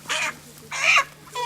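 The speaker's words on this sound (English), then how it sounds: "we'll take a look at some of our chickens that we're going to be harvesting tomorrow" Heritage chickens on a pasture farm, three short bursts of bird calls, near and fairly loud, with quiet gaps between.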